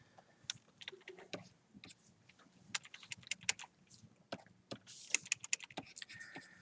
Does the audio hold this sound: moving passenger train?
no